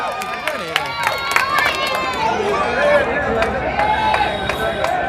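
A crowd at a gathering in Nomani Garden claps to welcome speaker Abdul Malik, with sharp scattered handclaps over a lively hubbub of voices and background chatter.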